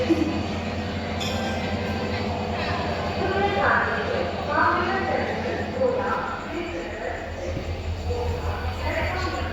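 A train rolls past at close range, a steady loud rumble of wheels on rail, with people talking over it.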